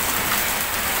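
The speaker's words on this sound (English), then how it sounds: "Now it's proper raining." Heavy rain falls outdoors on a football training pitch, a dense, steady hiss of drops hitting surfaces that stays loud and unbroken throughout with no voices.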